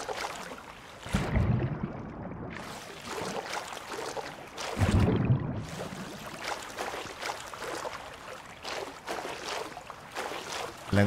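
Boat moving across water in the survival video game Rust, with rushing, splashing water and wind-like noise in uneven surges, two louder bursts standing out over a continuous wash.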